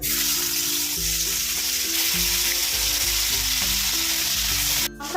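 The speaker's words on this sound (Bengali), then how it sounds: "এবার তেল গরম করে রেখেছি এবার মাছগুলো দিয়ে ভাজবো" Katla fish pieces fry in hot oil, a loud continuous sizzle with crackling spatter, close up and steady, ending with a brief sharp clatter; no one speaks.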